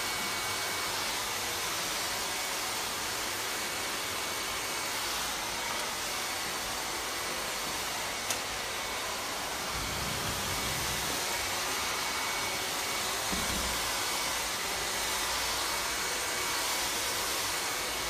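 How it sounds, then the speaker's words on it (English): Hair dryer fitted with a diffuser blowing steadily on curly hair during a short bob haircut, a constant close whooshing roar with slight shifts as it is moved and twisted. "I'm just encouraging the bend by getting in the diffuser and twisting it"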